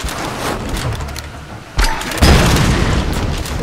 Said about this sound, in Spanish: Explosiones total